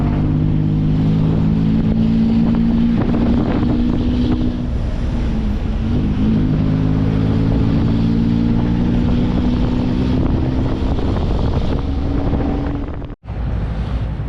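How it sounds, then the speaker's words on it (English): A Bangkok tuk-tuk running without a silencer gives a loud, constant, rasping engine drone with wind buffeting over it, then cuts out briefly near the end before coming back. "I love a Bangkok tuk-tuk. The only thing missing on this is the"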